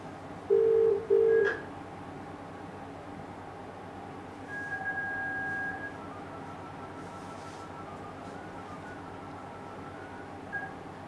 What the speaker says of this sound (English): So you'll hear it kind of sending out a number of beeps that Jennifer heard earlier on.